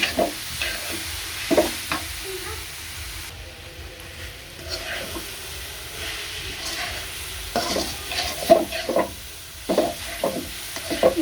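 A spoon scrapes and stirs puli pitha filling in a pan over low heat, with repeated short strokes against the pan under a faint frying hiss and a quiet pause midway.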